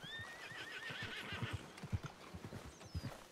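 Horses in the Red Dead Redemption 2 game world whinny and neigh with high shrill calls, while steady clip-clopping hooves thud underneath at close range throughout.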